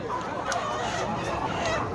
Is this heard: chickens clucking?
yes